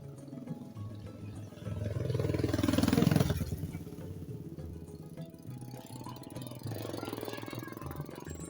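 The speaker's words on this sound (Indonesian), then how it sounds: "Awas motor, awas." A motorcycle engine swells as it rides past close by on a street, peaking loudly mid-clip and then fading back into a steady low idle-like rumble, with scattered faint voices.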